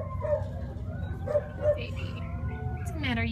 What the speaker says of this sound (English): He's got a short little snout and he's grunting.